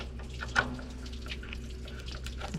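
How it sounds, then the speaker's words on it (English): Coolant water drains and trickles out of the radiator of a Deere 750 dozer, a steady close watery splashing with a few brief drips, no voices. "I wanted to show you guys draining this radiator out and what this sock looks like."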